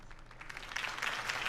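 Campaign rally crowd applauding after a political speech, a steady wash of clapping that swells louder midway and holds, with no talk over it.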